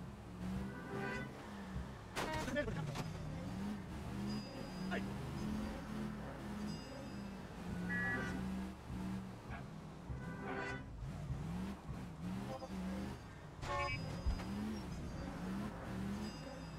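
Car driving in the L.A. Noire video game, with a steady engine hum and occasional revving and bumps from hitting other vehicles, running under ongoing chatter from people talking throughout.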